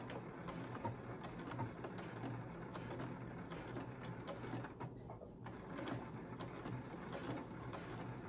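A sewing machine runs a regular stitch back and forth through a cloth jar bonnet, giving a steady mechanical whir with evenly spaced ticking clicks throughout.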